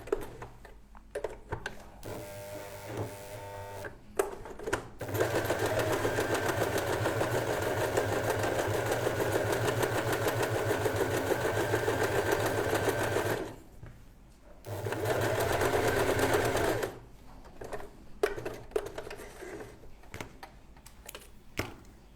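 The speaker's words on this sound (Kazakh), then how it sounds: "Төбе жақты бұлай тоже екі тігіс жасап аламыз бүрме қылып." A sewing machine stitches two parallel gathering rows along the top of a staple (rayon) dress, running in long steady bursts with brief pauses between them, close and loud, with no talking over it.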